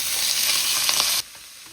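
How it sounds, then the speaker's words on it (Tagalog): Pork pieces fry in hot cooking oil with a dense, bright hiss for about a second, which then suddenly drops to a faint background crackle. "lutuin lang natin to until mag-light brown yung ating mga pork"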